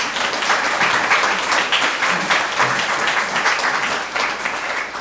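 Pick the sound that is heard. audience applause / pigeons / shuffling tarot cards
audience applause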